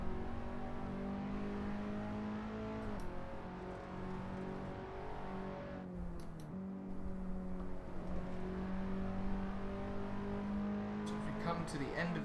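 A Skip Barber race car engine at Brands Hatch in a racing video game holds a steady, faint drone that shifts pitch with gear changes, running under continuous talk.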